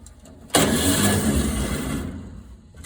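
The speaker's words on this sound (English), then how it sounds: "I'm testing out the starter. I flipped that ring gear around on the flywheel, so let's see if that was a valuable option." The starter of a 1946 Chevy truck, fitted with a flipped flywheel ring gear, cranks and the engine catches with a sudden loud burst, then settles into a rough running rumble nearby.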